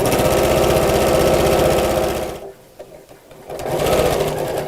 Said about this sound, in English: carry on sewing down the second side